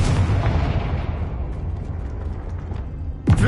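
A Confringo fire spell cast in Hogwarts Legacy lands as a loud, booming blast that rolls and decays over a few seconds, and a sharp second crack snaps in at the very end.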